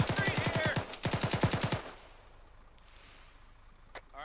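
Rapid automatic gunfire rattles out in two close bursts during a military field training exercise, each burst a fast train of sharp cracks, followed by quieter outdoor ambience with a faint distant shot near the end.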